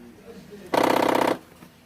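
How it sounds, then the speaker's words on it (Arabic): A faulty door lock actuator on a 2007 Honda CR-V gives one loud, rapid, ratcheting buzz lasting about half a second as the door locks or unlocks, set against faint background noise. "بس نفتح اللوك والانلوك تبع السيارة بنسمع صوت"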